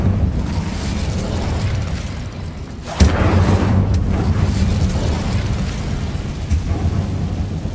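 A fire spell cast in the game Hogwarts Legacy: a sudden burst at about three seconds flares over a steady, loud rumbling game background, followed by lingering crackle and smaller bursts.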